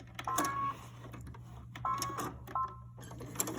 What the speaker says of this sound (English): You can feel the wire as you're sewing.